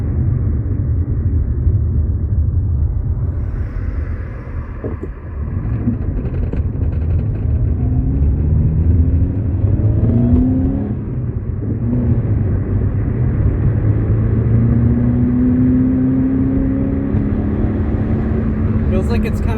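Engine of a 1990s Subaru Impreza drones steadily from inside the moving car, its pitch rising and falling as the revs climb and ease, a continuous loud rumble throughout.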